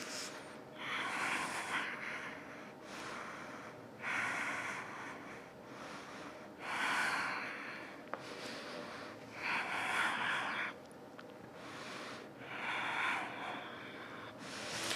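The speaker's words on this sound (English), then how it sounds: "deep breaths." Deep, slow breathing during a yoga vinyasa flow, with five long airy inhale-exhale cycles repeating steadily and close up over a faint background hum, no talk.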